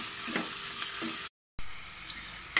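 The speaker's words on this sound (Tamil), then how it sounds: "நல்லா வெங்காயத்தை வந்துட்டு வதக்கிக்கோங்க ஃப்ரெண்ட்ஸ்." Onions sauté in a pan while pachai payaru kulambu is being made, giving a close, continuous sizzle and crackle with faint stirring scrapes; it breaks off briefly and then resumes.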